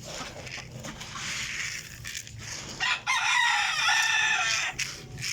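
Backyard chickens cluck close by and a rooster crows, with a loud crowing burst in the latter half over steady fowl chatter and no talk.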